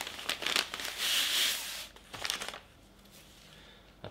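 Close, loud crinkling of packaging as a Zlatoust knife is unboxed, with bursts of rustling and tearing, a sustained crackle in the middle, then quieter handling.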